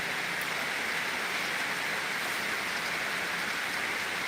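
Steady, dense rain hisses on surfaces with no breaks, a constant wash of falling water.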